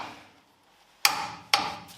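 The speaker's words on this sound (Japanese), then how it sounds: "ハブナット、ここをトルクかけて締めていきます" Two sharp metallic clicks about half a second apart, close and loud, from a torque wrench tightening a hub nut on a Mazda RX-7 FD3S during restoration, with no talk.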